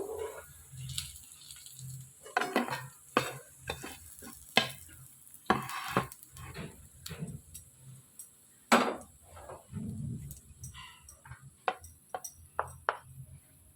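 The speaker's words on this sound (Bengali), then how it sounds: "এরকম লাল লাল করে আমি এগুলো ভেজে নিলাম।" Chicken pakora frying in oil until reddish, with a faint sizzle under frequent clinks and scrapes of a utensil against the pan, heard without talk.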